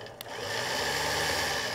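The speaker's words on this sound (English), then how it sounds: "take your positive cable end and touch it to the motor just to see if it works" A Badlands 12k winch motor whirs up at once when a positive battery cable is touched to it, a loud steady electric hum that runs close and unbroken after a brief spark-like click.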